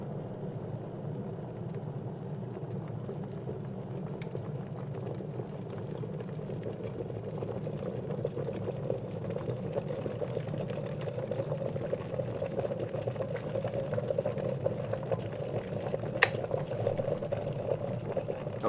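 A Netta electric travel kettle rumbles and hisses steadily as 400 ml of water heats toward a boil, the bubbling growing slightly louder over time with faint clicks.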